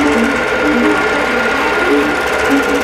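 A computerized longarm quilting machine stitches a Moulin Rouge wholecloth quilt section, giving a steady, loud, rapid mechanical whir and chatter that runs continuously throughout.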